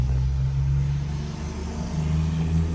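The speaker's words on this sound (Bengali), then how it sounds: "2 সাইড থেকে গাড়ি আসা যাওয়া করতেছে।" Rush-hour cars pass on a damp road, a continuous low engine rumble and tyre hum swelling as vehicles go by in both directions, fairly loud and steady with no speech.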